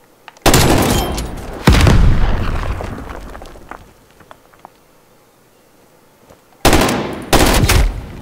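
Gunfire in Black Ops Cold War comes in two loud, close bursts of rapid automatic fire with heavy impacts, separated by several seconds of quieter scattered shots and ambience.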